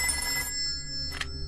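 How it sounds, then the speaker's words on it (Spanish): A telephone bell rings in two short bursts, bright and moderately loud over a quiet low hum. "En ese momento el teléfono empezó a sonar."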